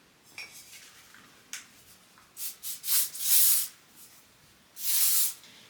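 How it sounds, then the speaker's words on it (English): Hairspray sprayed onto loosely curled hair, heard as a few short hissing bursts and then one longer spray near the end, close and fairly soft, with faint handling sounds between. "I might add a tiny bit of hairspray"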